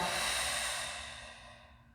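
A long, steady exhale of breath during a Pilates class, a soft airy hiss lasting about two seconds that slowly fades, close and clear with no talking.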